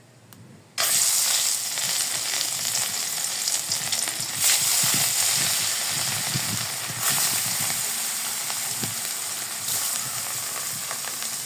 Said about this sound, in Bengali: তেল গরম হয়ে গেছে, এখন আমি মাছ দিয়ে দিই।